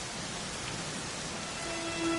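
Steady rain falling in the video game Dragon Quest XI, a constant even hiss of rainfall with no talk over it.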